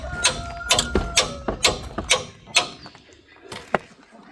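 A socket wrench ratchets on a car strut bolt during a strut repair, giving a series of sharp mechanical clicks in uneven bursts, close and fairly loud, with a short pause before a final click.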